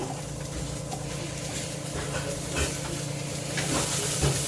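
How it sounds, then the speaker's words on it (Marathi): Fresh coriander leaves sautéing in oil with a ground black masala paste in a pan, a steady close sizzle and hiss with faint stirring scrapes and no talk. "आता आपण त्याच्यातच कोथिंबीर थोडीशी परतून घेऊ।"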